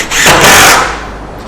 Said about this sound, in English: I'm going to screw that in with some drywall screws.